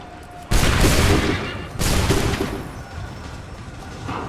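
Two massive musket volleys crack out in Assassin's Creed III, the first roaring in abruptly and trailing off, the second following just over a second later, each a crowded burst of overlapping shots that fades into distant battlefield noise.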